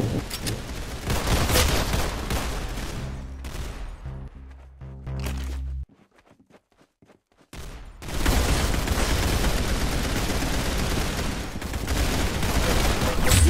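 Dense bursts of gunfire from the video game Arsenal, loud rapid shots and booms that drop out into near silence midway before resuming heavily.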